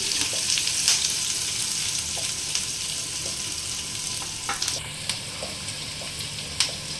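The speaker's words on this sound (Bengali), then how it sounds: "এখানে আমি একটা ছোট পেঁয়াজ কুচি করে নিয়েছি সেটা দিয়ে দেবো এটা একটু আমি হালকা করে ভাজবো" Small chopped onion frying lightly in oil in a pan, giving a steady, close sizzle with scattered pops and crackles throughout.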